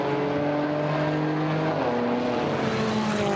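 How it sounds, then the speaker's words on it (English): A Porsche GT4 race car accelerates out of a chicane at Zolder during a European series race, its engine note climbing and shifting in steady harmonic tones, fairly close and loud with no talk. "But the Porsche's made its way through. There goes Basseng out of the chicane."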